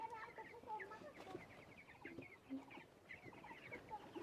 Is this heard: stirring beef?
no